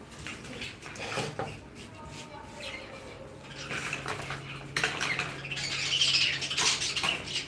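An angry pet bird squawks repeatedly at close range while another bird is being fed, its harsh calls rising louder toward the end over light clattering and a faint background voice.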